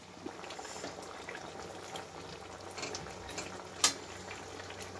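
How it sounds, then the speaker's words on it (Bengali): A pot of fish curry bubbling on the stove, a continuous soft burbling and popping boil, close but quiet, with one sharper pop near the end. "এখানে মাছের ঝাল তো ফুটছে"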